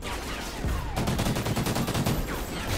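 Rapid gunfire from the video game Call of Duty: Ghosts, a dense burst of automatic shots rattling steadily for about two seconds over a rumbling battle background, with no talk.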